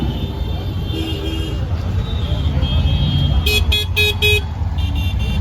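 Busy Varanasi street traffic with a steady rumble of vehicles and several short car horn toots, a quick burst of repeated honks near the end; voices talk in the background.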